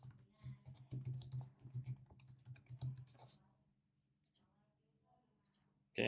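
A new password being typed on a computer keyboard, a quiet, rapid run of key clicks for about three seconds, then a few scattered taps and a louder click at the end.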